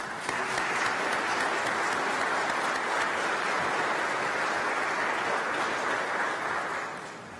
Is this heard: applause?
yes